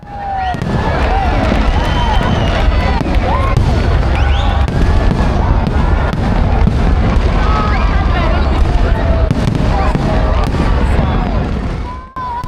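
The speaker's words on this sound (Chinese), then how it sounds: "还是看到了这30多秒的烟花的" Dense fireworks at a Singapore National Day celebration burst and crackle continuously, with booming thuds, whistling streaks and a steady roar of the crowd cheering and chattering around them.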